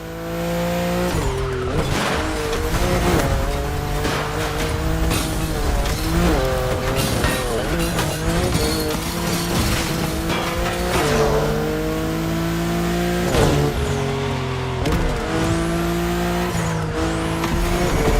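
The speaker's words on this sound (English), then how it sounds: "As for the car, you're going to partner with quite the celebrity, a Ferrari 308 GTS." A Ferrari 308 GTS driven in the racing game The Crew Motorfest, set in Hawaii, with a steady, loud engine drone that rises and falls through gear changes and the occasional tire squeal, continuous with no talk.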